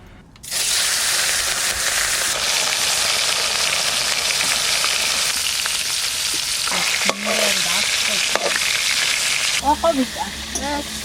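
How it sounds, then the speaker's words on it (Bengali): Oil in a hot pan readied for frying rui fish gives a loud, steady broadband sizzle almost from the start and running throughout, with a few clanks near the end and a voice briefly speaking over it. "তেল দিয়ে দেবো মাছটা ভাজার জন্য"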